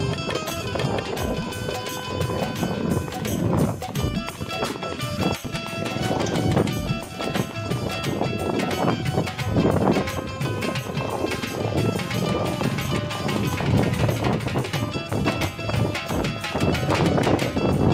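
A Sindhi horse ridden in the rewal gait at Dhrang clip-clops with a fast, even hoofbeat rhythm, loud and close, alongside crowd noise and talk throughout.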